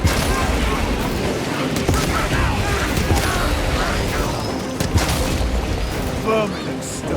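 Frag grenade blasts and gunfire in the Space Marine 2 video game, dense booming bursts and pops that fill a loud, continuous battle mix with shouted voices underneath.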